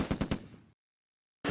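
Heavy gunfire in the WWII wargame Close Combat: three quick, loud bursts in a row trail off into a fading rumble, then silence, then a fresh burst of noise cuts in at the end.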